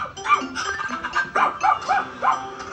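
Scruffy, a cartoon dog, gives a series of short yapping barks and whimpery yelps in quick succession, close and clear, with faint background music underneath.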